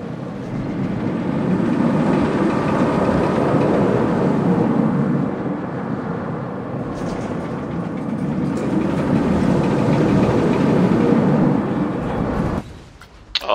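A steel B&M inverted roller coaster in the theme-park game Planet Coaster runs its track with a loud, steady rolling roar and rattling rumble that swells and fades, then ends abruptly near the close.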